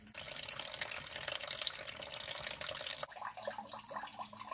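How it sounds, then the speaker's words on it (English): Water draining out of a Ford Model A radiator, a continuous faint splashing gush that shifts character partway through as the flow changes, with no talk. "So right now there's just water in the radiator that we're draining out."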